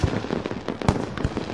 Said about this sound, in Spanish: El tradicional espectáculo de fuegos artificiales en Viña del Mar, Chile.